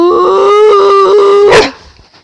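Dog vocalizing on a speak command during training, a single drawn-out howling bark that holds a steady pitch for over a second, then ends in a short sharp yip, loud and close.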